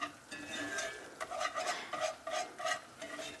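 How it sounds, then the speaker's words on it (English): A roux for giblet gravy stirred continually in a pan: a soft, rhythmic scraping of the utensil across the bottom with a faint sizzle beneath, close and quiet, with no voices. "And you do want to continually stir this."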